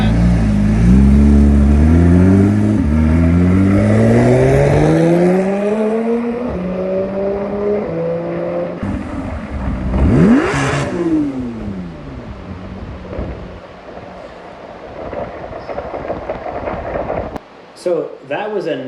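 A Porsche 991 GT3 RS exhaust revs hard and loud, rising through several sharp gear-like sweeps, then roars past with a brief deep swell before fading into rumbling background, with voices faintly underneath.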